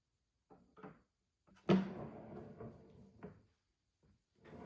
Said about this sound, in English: These doors slide very easily across the rail